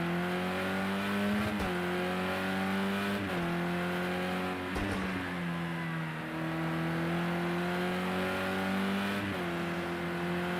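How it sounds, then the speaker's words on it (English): A touring race car in the racing game Project Cars 2, driving the Monaco street circuit, holds a loud steady engine drone, with brief dips and gear shifts as it brakes hard for a chicane and then accelerates away, without any talk. "Heavy braking to make reverse chicane."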